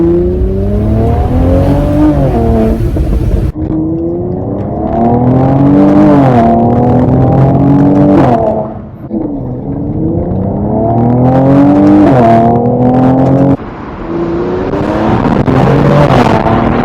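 Mercedes-AMG C43 all-wheel-drive car powering around a roundabout, its engine loud and close as it repeatedly climbs in pitch, drops, and surges again over several acceleration runs.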